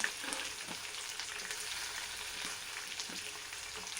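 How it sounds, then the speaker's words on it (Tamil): Green chillies and tomato sautéing in a pan for puffed-rice upma, a steady soft sizzle running throughout with faint stirring scrapes, moderately close and without talk. "எல்லாம் போட்டு நல்லா வதக்கணும். நல்லா வதங்கிட்டுருக்காங்க."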